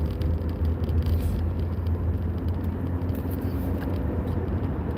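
Steady low road rumble from traffic, with cars passing at a moderate distance for several seconds, fairly faint and continuous with no voices.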